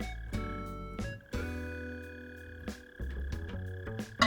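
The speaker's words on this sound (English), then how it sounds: "I hear that mole cricket also." A mole cricket in Animal Crossing: New Horizons gives a low, buzzy, croak-like trill, quiet and repeating in short pulses alongside soft sustained game tones.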